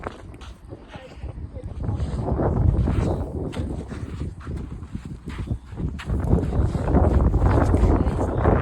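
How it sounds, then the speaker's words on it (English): Gusts of wind buffet the microphone in loud, uneven bursts near a dust tornado, with a few faint voices mixed in. "it's getting windy"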